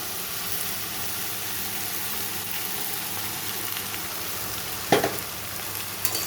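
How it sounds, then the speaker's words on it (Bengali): Rice tipped into a wok of frying vegetables, giving a steady, dense sizzle that holds evenly throughout, broken by one sharp clatter near the end as the rice goes in. "সবজিটা ভাজা হয়ে গেছে তো আমি রাইসটা দিয়ে দিচ্ছি"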